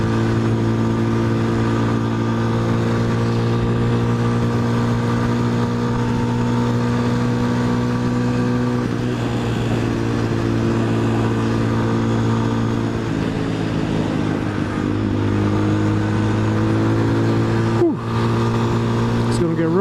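A truck holding 5th gear as it climbs a cold mountain road through national forest drones steadily and loudly the whole way, the engine note sagging slightly midway before settling back to an even pull.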